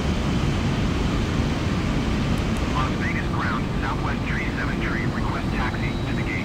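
A Boeing 777-300ER taxiing in Microsoft Flight Simulator 2020, with a steady, loud jet engine hum and broadband rumble filling the scene while a voice speaks over it partway through.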